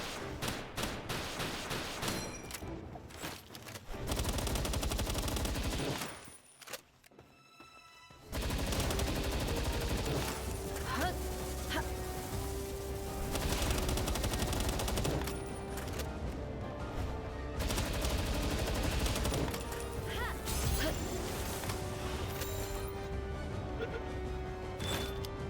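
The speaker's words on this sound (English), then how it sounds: "I'm gonna dump a whole mag, and then just start going at it with the assault rifle." Assault rifle emptying a full magazine during a video game fight, with long bursts of rapid gunfire interrupted by a brief lull, plus crashes and other game effects mixed in.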